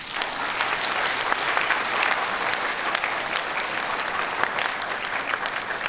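An audience at a Korean-language speech contest for foreigners claps steadily, dense applause filling the room at a constant level throughout without a break.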